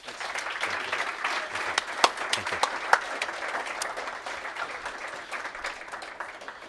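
An audience at an Opportunity Coalition event gives a round of applause for a speaker, a steady wash of many hands with a few sharp louder claps standing out, moderately distant and alone without talk.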